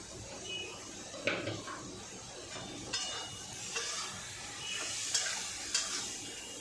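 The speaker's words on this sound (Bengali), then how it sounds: "এবার ভালো করে মশলাটা কষে নেবো" Spice paste with tomato, salt and turmeric is stir-fried in a pan for a spicy Bombay duck fish dish, giving a soft, steady sizzle broken by scraping spatula strokes at irregular intervals.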